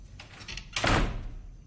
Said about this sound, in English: I'm locking this door.